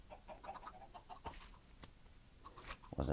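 Chickens clucking in a survival video game, a few faint, scattered clucks and short calls at a distance over a low, quiet background.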